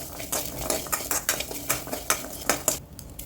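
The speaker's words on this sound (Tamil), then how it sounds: "இதில் போட்டு ஃபஸ்ட்டு வதக்கிடுறேன்" Metal utensil scraping and clinking against a pan in a quick, irregular rhythm while sautéing peeled jackfruit seeds, fairly close with no talking.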